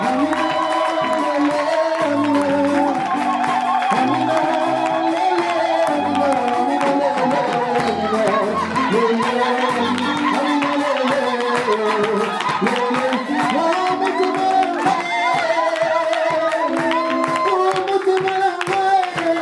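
A large congregation cheers and claps loudly and steadily at a church gathering as a preacher is welcomed, with crowd noise blended over sustained music throughout.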